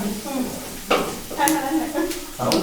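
Chopped onions sizzle and fry in a pan with a steady hiss, while someone stirs and a person talks over the cooking.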